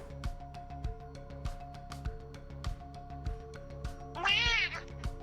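A house cat lets out one drawn-out meow near the end, close and clear over a regular thumping rhythm of music playing in the background.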